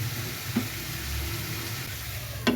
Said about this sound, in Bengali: আগে 2-1 মিনিট একটু কষিয়ে নিই।